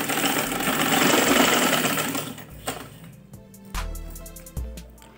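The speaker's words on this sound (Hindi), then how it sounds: "नीचे इसके कपड़ा, नीचे पे पेपर बुकरम जो है इसके साथ साथ सिलाई लगा देंगे हम।" A sewing machine stitches kurti fabric layered over paper buckram, running in a fast, loud burst first and then in several short, separate runs with clicks between them.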